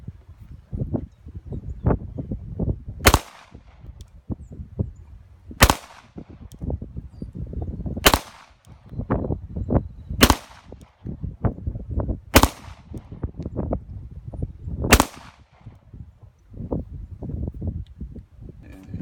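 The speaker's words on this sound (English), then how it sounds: "And now the Glock." Glock 21 pistol fired at an outdoor shooting range at 8 yards, six sharp, loud shots spaced about two seconds apart over a steady rumble of background noise and handling sounds.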